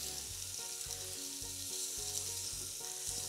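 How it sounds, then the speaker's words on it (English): Steady, close sizzling of raw prawns searing on a very hot salt block, a constant hiss with faint background music beneath it. "And you can see how quickly this is sizzling."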